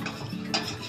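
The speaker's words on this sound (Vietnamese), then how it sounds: "Sau đó mình sẽ quậy lên để mình luộc tôm cho nó có cái vị mặn mặn" Salted water is stirred in a pot before boiling shrimp, a continuous swishing and sloshing with a brief scrape or clink of the utensil against the pot midway, close and moderately loud.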